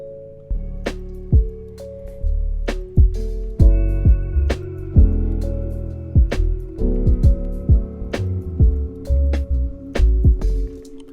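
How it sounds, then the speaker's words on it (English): Plucked kalimba from Analog Lab adds lofi ear candy: short bell-like plucked notes ring out in a loose, sparse melodic pattern over a warm, dusty lofi beat with soft bass and drums, up close and clear. "I added this little kalimba from Analog Lab"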